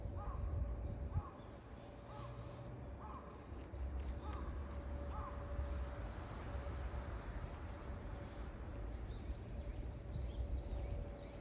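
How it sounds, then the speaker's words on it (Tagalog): Bird calls in a Japanese forest in autumn, with tall trees overhead, repeated at a moderate distance over a steady outdoor hum and ambient noise, some calls in short rhythmic bursts. "Ganda rin po ng huni ng ibon"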